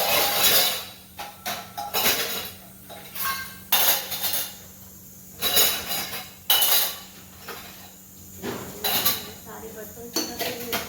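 Dishes, pots and steel utensils clatter and clink in bursts while being washed in a home kitchen sink, with running water and a voice talking now and then between the loud, close knocks.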